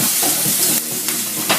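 Steak sears in extra virgin olive oil in a hot pan, giving a loud, steady close-up sizzle with a few brief crackles.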